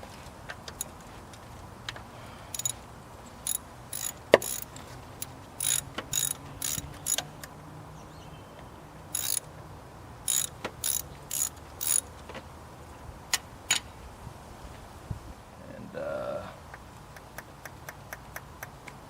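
A ratchet wrench clicks as it loosens a 10mm bolt holding a VVT sensor on a Lexus V8 engine, with sharp ticking strokes coming in uneven bursts, close and clear, with no talking.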